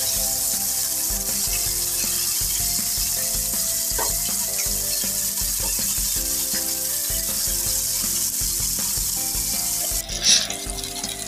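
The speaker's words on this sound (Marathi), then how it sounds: "आता आपण एका साईडने 1 ते 2 मिनिटं छान असे फ्राय करून घेऊयात." Lepa fish frying in a pan with a steady, close, continuous sizzle and crackle throughout, and a brief clatter or splash just before the end.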